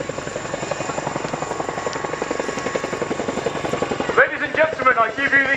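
Boeing Chinook HC4 twin-rotor helicopter of the RAF display team at an airshow, its rapid thudding rotor beat steady and loud throughout, with a commentator's voice layered over the final seconds.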